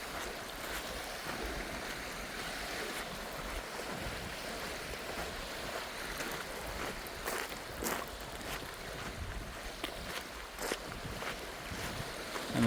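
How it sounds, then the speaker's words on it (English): Waves lapping ashore on an empty lake beach along a hiking trail, a continuous washing rush with wind noise buffeting the microphone and occasional louder surges. "I'm enjoying the sound of the waves lapping ashore."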